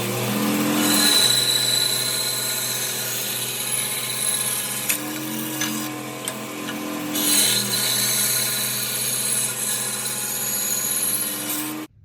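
A power tool cuts Damascus-steel knife handle scales to about 3/8 inch thick in a workshop, a loud continuous whirring machine drone with steady tonal hum that runs nearly the whole time, shifting in pitch as the cut proceeds, without speech.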